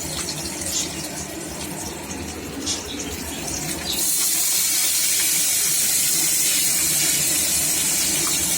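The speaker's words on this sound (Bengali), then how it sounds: "পাবদা মাছ রান্না করছি।" Pabda fish cooks in a pan with a soft sizzle and clatter that swells about halfway into a loud, steady hiss of frying and steam.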